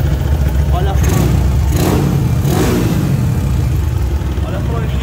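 Motorcycle fitted with a 190 performance kit idles loudly and steadily up close, with a few rising revs early on and someone talking over it.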